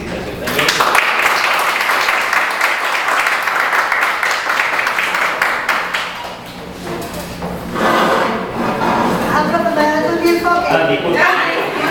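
Audience applause at a classroom group dramatization performance, a dense sustained patter of many hands clapping for several seconds, dipping briefly before swelling again, with voices mixed in.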